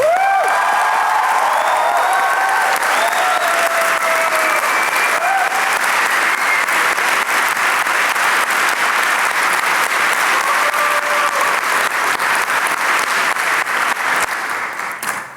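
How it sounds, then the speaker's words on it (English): Sustained audience applause at an academic awards convocation, a dense, loud wash of clapping filling the room for the full stretch before tapering slightly at the end. "Please give them one more round of applause."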